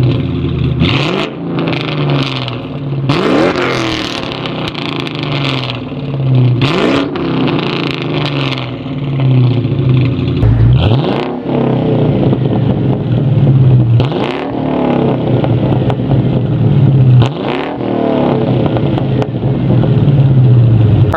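Ford Mustang GT V8 with a loud H-pipe exhaust revved repeatedly, several sharp throttle blips rising and falling over a steady deep idle, close and loud with no talking.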